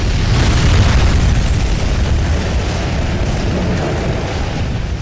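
Grenade blast in the video game BloodRayne 2: a loud, sustained roaring explosion that booms heavily and rumbles on for several seconds, slowly easing off without fully dying away.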